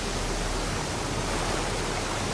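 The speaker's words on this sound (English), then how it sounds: "Is Niagara Falls, one of the biggest waterfalls in the world." Niagara Falls roaring, a dense, steady broadband rush of falling water that holds constant and loud throughout, with no voices.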